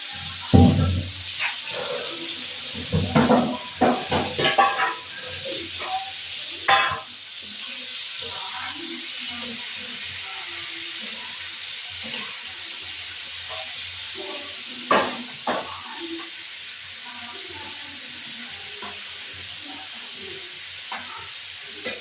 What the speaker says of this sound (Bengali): চিংড়ি মাছগুলো মানে বড় বড় চিংড়ি, এইটা একটুখানি মানে ভাজা ভাজা করবো।